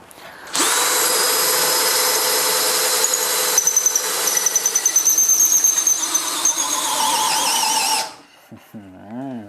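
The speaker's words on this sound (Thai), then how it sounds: "อันนี้ผมก็จะลองเจาะกัน ที่เกียร์หนึ่งให้ดูนะครับ" A DeWalt DCD805 cordless impact drill in first gear bores into wood with a steady, high, whining drone for about seven seconds, rattling slightly midway before cutting off abruptly.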